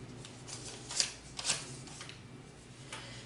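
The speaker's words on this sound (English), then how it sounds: "I'm going to do a quick little shuffle here" A Wild Unknown Animal Spirit tarot deck gets a quick shuffle, with soft riffling and a couple of sharper card flicks close by in a quiet room.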